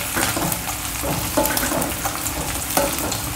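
Onion and green chillies browning in a pan for garlic spinach gravy make a continuous close sizzle, broken by a couple of brief stirring clatters, with no voices.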